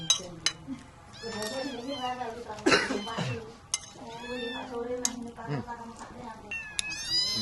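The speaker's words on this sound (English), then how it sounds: "how can you resist those kittens?" Kittens in a rural East Java home meow repeatedly in high, overlapping cries, close by, with faint household clatter and some background voices.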